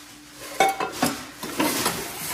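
Old kitchen pots and pans clatter and clink as they are handled and set down during a kitchen declutter, several metallic knocks close by in quick irregular succession.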